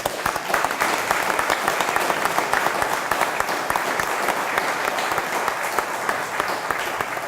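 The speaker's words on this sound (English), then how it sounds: "Let's give him a round of applause." A ceremony audience at a Harrisburg firefighter swearing-in gives a newly sworn firefighter a round of applause, dense steady clapping from many hands that stays loud and even for the whole stretch.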